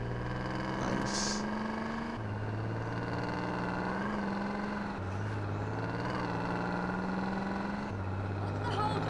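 Car engine in GTA San Andreas Definitive Edition idling with a fresh engine, a steady low hum that shifts pitch in stepped revs every couple of seconds, sitting close and continuous.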